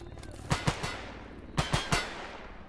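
Two short bursts of machine gun fire in S.T.A.L.K.E.R. GAMMA, each three sharp shots in quick succession, separated by about a second of quieter background, moderately distant.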